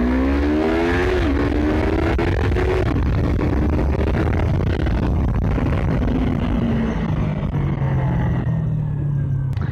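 A 2016 Yamaha R3 motorcycle on its stock exhaust, loud and close, revving up and down in rising and falling sweeps with a rough engine rumble underneath.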